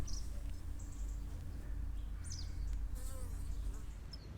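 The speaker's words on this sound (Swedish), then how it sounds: "Här ser vi både bin som kommer tillbaka med nektar och bin som är på väg ut på nya äventyr." Honeybees buzzing around a hive entrance outdoors at a zoo in spring, a steady low hum of many wings with a few higher flybys passing close over it.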